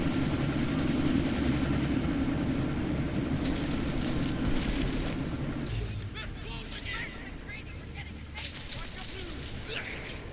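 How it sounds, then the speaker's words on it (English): A helicopter in the video game Deus Ex: Mankind Divided roars with a thick low rotor drone that drops away midway, leaving a thinner engine whine and scattered bursts, with voices talking over it. "That chopper's about to take off."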